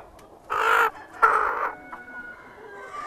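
Chickens on a farm, including a hen being weighed, give two loud close clucking bursts and then fainter calls, with no talk.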